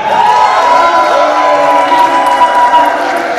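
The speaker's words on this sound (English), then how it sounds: "If you think the person who should move on to the next round is Callux the Castigator, please cheer now." A convention audience at a live wrestling show cheers for the wrestler Callux the Castigator, a dense, steady roar of voices and shouts that holds loud and close for the whole stretch with no single speaker standing out.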